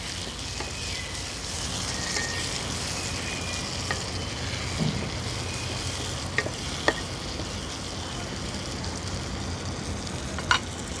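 Chopped tomatoes cooking with fried onions in a pan for an oyster mushroom curry, giving a steady broadband sizzle with occasional stirring clicks and scrapes, fairly close and continuous throughout.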